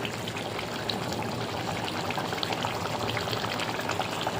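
Fish curry made with fried bacha fish and coriander leaves simmering in a pan, giving a steady, dense bubbling and hiss that stays even and fairly loud throughout, with no voices.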